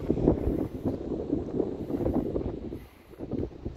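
Strong wind buffets the microphone on a hilltop in the morning, a continuous broadband rumble and roar with gusty swells that eases briefly near the end.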